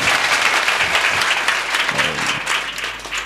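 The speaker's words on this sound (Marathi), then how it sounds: "जोरदार टाळी वाजवा." Loud, sustained applause from a village audience gathered for a kirtan, dense clapping rolling steadily without a break and no voices over it.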